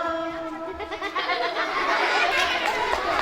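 A goat bleats with a wavering, drawn-out cry at a crowded Maulid Nabi gathering at a mosque, rising over a steady murmur of people chatting and laughing nearby.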